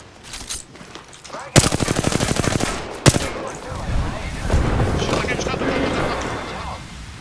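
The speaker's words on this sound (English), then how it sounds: "Taking shots." Rapid automatic gunfire in the battle royale video game Apex Legends: a loud sustained burst of shots, a single sharp shot after it, then rumbling game action, with a player talking over it.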